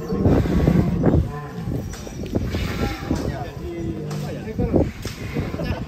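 Loud, close cattle lowing at a cattle contest, mixed with crowd noise and voices talking over it, in a busy, echoing setting.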